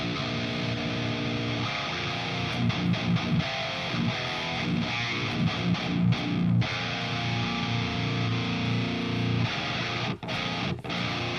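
Heavy distorted electric guitar through an amp sim with a 5153 cabinet impulse response, dense and saturated, with chugging palm-muted bursts and brief pauses, played loud and up close with no voices.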